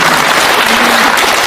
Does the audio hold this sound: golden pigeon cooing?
no